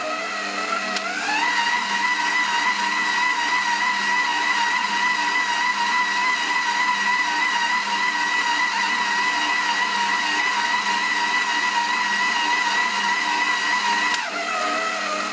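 A Heichkell 1400W stand mixer runs at speed 2 kneading bread dough, a steady motor whine starting up and holding even for many seconds before winding down, loud and close with no talking.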